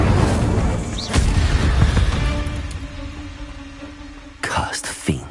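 Incendio fire spell cast in Hogwarts Legacy, a fantasy video game: a booming burst of flame crackles out, then a second sharp whoosh near the end, over game music and ambience.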